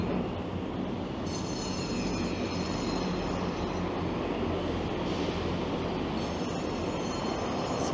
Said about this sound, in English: Sounds like I just missed a train.